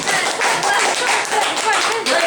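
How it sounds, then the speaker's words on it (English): An audience clapping on request, a rapid continuous patter of many hands, loud and close, sustained through the short stretch without a pause. "If you can hear me, clap 15 times."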